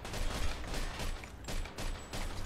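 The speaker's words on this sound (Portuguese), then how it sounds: "Aonde tá vindo esses tiros?" Gunfire in the crime video game Mafia 2, dense rapid shots and mechanical clatter running almost continuously, loud and close, with no talk over it.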